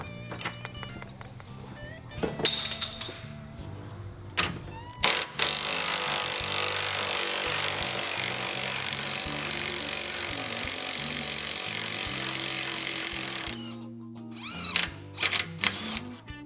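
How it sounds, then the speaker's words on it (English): Upper shock bolt on a 2018+ Harley-Davidson Softail loosened with a 3/4 socket, starting with scattered clicks and clanks, then a long steady whirring drive, likely a power tool, followed by a few sharp metallic knocks. "We're gonna go ahead and take a 3/4 socket. Get this upper shock bolt broken loose."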